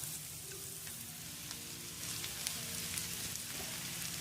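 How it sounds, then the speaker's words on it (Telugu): Chopped amaranth leaves frying in a pan for an egg fry: a steady, soft hiss of sizzling oil with faint crackles, unchanging and close, no voices. "తరిగి పెట్టుకున్న తోటకూర వేసుకోవాలి."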